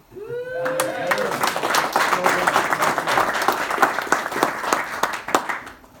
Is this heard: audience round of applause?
yes